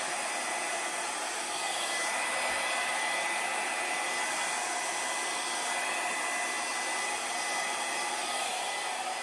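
Loud, steady blower whooshing without pause for about nine seconds as it dries out an acrylic paint pour on a canvas, with no voices over it.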